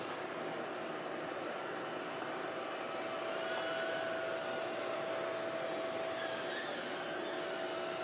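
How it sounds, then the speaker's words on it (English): Small indoor quadcopter with four electric ducted fans flying, giving a steady high-pitched whine and rushing whirr at close range that holds throughout with a thin tonal hum. "It's 4 little EDFs on a quad. Oh, it's blazing high speed."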